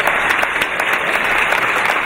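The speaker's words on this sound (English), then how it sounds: "give that man a round of applause" Applause breaks out at a charity rhino auction after a bid is taken, a dense steady burst of clapping from a room full of people, loud and close throughout.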